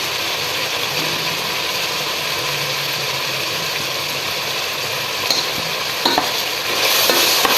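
Vegetables for pulao fry and get stirred in a hot pan with ginger-garlic paste and spices, a steady close sizzle with scraping stir strokes running throughout, briefly louder near the end.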